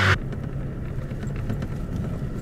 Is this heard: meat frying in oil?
no